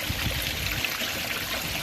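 Water trickles and splashes steadily in an aquaponics tank, stirred by a small pump that runs on battery with solar backup, making a continuous close-up burbling stream with no voices.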